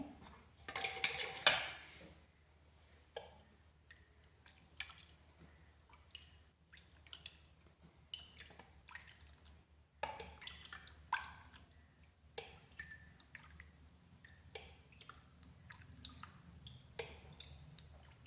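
Homemade desi ghee being strained into a container, with faint, sparse drips and a few light clinks of utensils in a quiet room, no voices.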